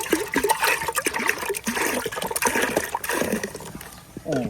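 Milk soda drink is poured into a container in a village kitchen, a close, full gushing splash of liquid that runs with uneven surges for several seconds.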